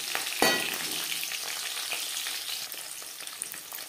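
Large-cut pieces of three onions frying in hot oil, a bright continuous sizzle that opens with a sharp crackle as they hit the pan, then settles into an even hiss with light stirring.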